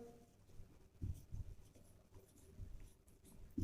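Pen or chalk writing during a maths lesson on real numbers, a faint series of soft scratching strokes in short bursts against a quiet room.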